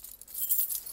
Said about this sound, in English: Don't need keys for that. We can throw them in the panel, though.